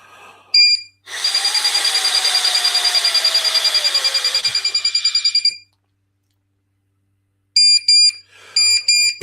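A handheld breathalyzer beeps through a test: a few short beeps, then a long, steady pulsing tone for several seconds, a pause, and more clusters of sharp electronic beeps at the end. Loud and close, with no talking.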